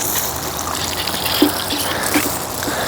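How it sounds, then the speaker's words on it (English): Water from a battery-operated portable shower pump trickles and splashes steadily nearby, a soft continuous spatter with a few small drips standing out. "and I got a working shower"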